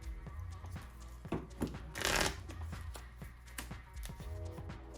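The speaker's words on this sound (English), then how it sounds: "Shuffle it up." Pokemon trading cards are shuffled by hand on a tabletop, giving a quiet, continuous run of riffling taps and flicks with a brief louder burst midway.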